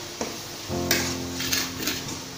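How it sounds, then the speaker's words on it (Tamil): Spice masala cooks in oil with onions over a low flame, a soft continuous sizzle joined by a few metal spoon scrapes and light clinks against the pan. "சிம்மில் வச்சு எண்ணெயிலேயே அந்த மசாலா எல்லாமே வணக்குங்க."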